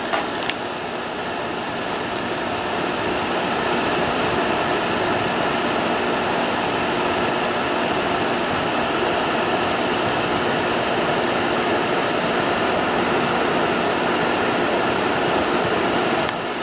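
An electric heater's fan running on its heat setting gives a steady, loud broadband whoosh with a faint tonal hum, unchanging and close throughout, with no voices.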